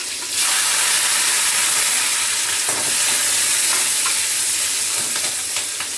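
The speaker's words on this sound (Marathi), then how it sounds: "आता जिरं मोहरी तडतडली, थोडासा लसूण" Cumin, mustard seeds, garlic and green chillies sizzle and crackle in hot oil. A loud, continuous frying hiss carries sharp popping spatters and light stirring throughout.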